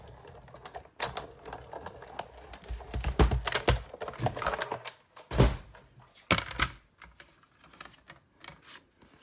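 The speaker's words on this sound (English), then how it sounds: "You ink the embossing folder, run it through the big shot." An inked embossing folder cranked through a Big Shot die-cutting machine, giving a series of irregular clunks, thumps and mechanical rattles at close range.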